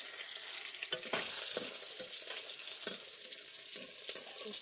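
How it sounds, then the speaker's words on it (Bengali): Mustard seeds and chilli fry in a pan with salt and turmeric, a steady hissing sizzle running throughout with scattered pops and crackles and occasional scraping stirs, close and fairly loud. "খেয়াল রাখতে হবে সর্ষেটা যেন ভালোভাবে ভাজা হয়"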